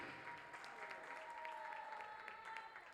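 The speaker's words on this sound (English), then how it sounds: "Ladies and gentlemen, one more round of applause and our heartfelt congratulations to the seniors from E&H" Applause from a volleyball crowd for the Emory & Henry seniors at a Carson-Newman match, an even, moderate wash of clapping with a faint tonal hum running underneath.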